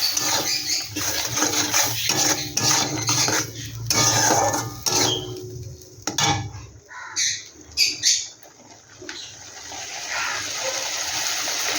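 Spice paste with a little water cooks and is stirred in a pan, giving continuous bubbling, scraping and clattering that comes close, then eases into a softer, steady simmer.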